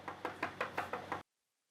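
Knocking on a door in a home, six quick evenly spaced raps close by, then sudden silence.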